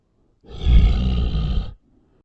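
A wolf monster growls in a horror audiobook, one deep, rough, loud roar lasting about a second, alone with no voices.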